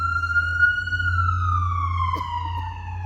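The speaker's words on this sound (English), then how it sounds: "so we can make sure the ambulance can get through" An ambulance siren sounds loud and close near a crowd at a street rally, a single smooth wail gliding up then slowly down with strong harmonics, alone without talk.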